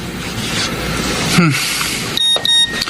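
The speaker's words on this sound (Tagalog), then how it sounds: "May nag-text sa akin si Ate Romina." A mobile phone's text message alert in a Filipino radio drama: a short series of thin, high electronic beeps near the end, following a steady hiss and brief rustling.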